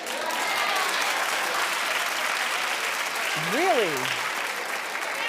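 Studio audience clapping at a talk show, a steady sustained wash of applause with a voice speaking briefly over it.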